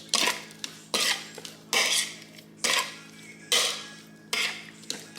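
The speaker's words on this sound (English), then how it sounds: "let's just stir this" Shrimp and vegetables stirred in a pan, six evenly spaced scraping strokes of a utensil against the metal, close and clear, with no voices.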